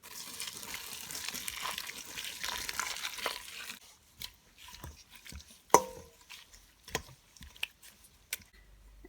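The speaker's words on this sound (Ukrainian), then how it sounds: "Для початку кропиву потрібно залити окропом." Water pours and splashes over fresh nettles in a kitchen, a steady watery rush for about four seconds, then quieter drips and a few sharp clinks and taps from handling the dish.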